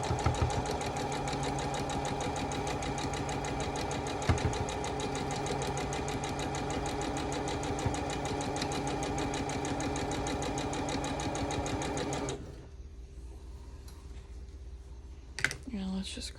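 A sewing machine stitches a gnome quilt block with a steady, rapid mechanical chatter that runs close and loud for about twelve seconds, then stops and leaves a quieter room with a few small knocks.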